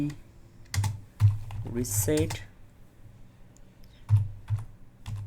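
Computer keyboard under Windows 11, typed in irregular bursts of close, crisp key clicks and clacks with short pauses between them, carrying on through the whole stretch with no voice.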